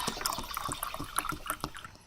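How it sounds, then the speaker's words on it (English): Water from a kitchen tap fills a cooking pot, a steady splashing, gurgling pour with small drips and bursts, close by and moderately loud throughout, with no talking. "You can hear the water now."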